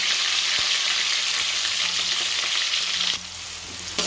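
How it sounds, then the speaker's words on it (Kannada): Onions sizzle steadily in hot oil with mustard seeds and curry leaves in a pan on a stove, a loud continuous frying hiss with occasional stirring clicks, no talk. "ಈರುಳ್ಳಿ ಹಾಕೊಂಡು ಚೆನ್ನಾಗಿ ಫ್ರೈ ಮಾಡ್ತಾಯಿದ್ದೀನಿ."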